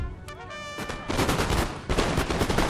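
Napoleonic musket volleys fired by massed infantry lines in Total War: Napoleon, a dense crackling roll of many shots in two rippling waves following a brief horn-like tone, loud and close.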